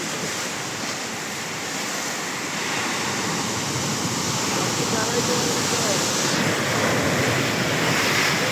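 Sea waves surge into Bharadkhol village as a loud, continuous roar of surf mixed with wind buffeting the microphone, building slightly over time.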